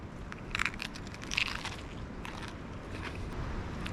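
Teeth bite into a jalapeno popper cheeseburger topped with cheeseburger chips and fried onions, giving two soft, close crunches followed by quieter chewing.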